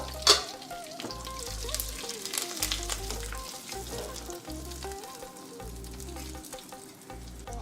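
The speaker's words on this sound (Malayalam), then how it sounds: "നമ്മളിനി ഇതിൽ നമ്മുടെ ബീട്രൂട്ട് പച്ചടിയിലേക്ക് ഒഴിച്ചു കൊടുക്കുക" Hot coconut-oil tempering is poured into beetroot pachadi and stirred, starting with a sharp splash then a softer, sustained sizzle with light scraping, close and steady.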